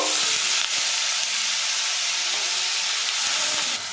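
Red lentils frying and being stirred in a pan with ginger-garlic paste, a steady loud hissing sizzle throughout with faint scraping of the stirring, no talking.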